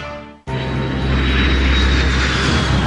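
A jet aircraft engine roars up abruptly after a brief fade, settling into a loud, sustained broadband rumble with a steady high whine running through it, filling the whole stretch without any voices.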